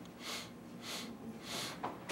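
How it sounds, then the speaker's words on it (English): Someone breathes in through the nose in short, separate sniffs during a yoga breathing exercise. Each soft, airy sniff comes close and quiet, evenly spaced in a steady rhythm. "now you're going to break your inhale into four sniffs"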